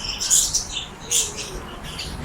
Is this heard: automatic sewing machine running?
no